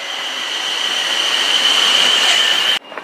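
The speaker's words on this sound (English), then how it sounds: "There's another train coming in." A train pulls into a station with a steady, thin metallic wheel squeal over a rising rumble, ending abruptly in near quiet.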